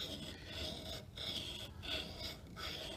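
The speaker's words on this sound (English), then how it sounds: "sharpening is a side-to-side motion like this" Steel carving chisel rubbed side to side across a sharpening medium by hand, a steady rasping scrape in repeated strokes about every half second, close and fairly loud with no talking.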